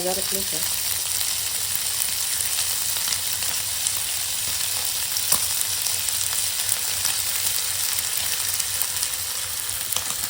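Garlic paste frying in a small amount of oil in a pan gives a loud, steady, close hiss and sizzle with faint crackles throughout, unbroken and alone.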